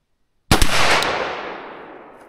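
A single sharp, loud gunshot from an old .357 Magnum round, more than thirty years old, with a long fading echo afterward.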